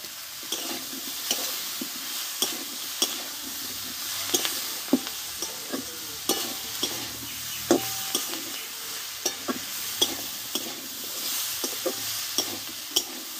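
Pieces of pre-fried fish go into a sizzling pan with spices for a Bengali small-potato and cauliflower curry, a steady fry hiss under repeated clacks and scrapes of a spatula stirring against the pan, close and without talk.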